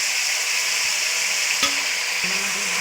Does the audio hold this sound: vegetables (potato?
yes